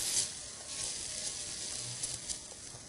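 Stir-fried meat for kimchi fried rice sizzles quietly in a frying pan that is starting to scorch, with a steady low hiss and a few faint scraping strokes.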